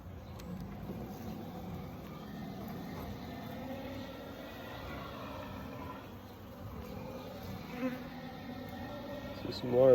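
Honey bees buzzing around an open hive during a spring inspection, a faint, continuous hum with occasional nearer passes and a brief louder buzz at the end.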